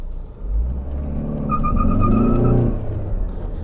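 A Tata Harrier SUV accelerates hard in sport mode, its engine rumble rising into a strong rev. A thin turbo whistle climbs over the drone in the middle, then eases off.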